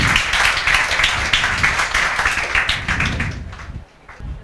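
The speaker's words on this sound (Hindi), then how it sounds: "दिव्यांशी अग्रवाल के लिए जोरदार तालियां।" Students applaud a classmate in a classroom, a dense, loud burst of clapping that keeps going for several seconds and then thins out and fades near the end.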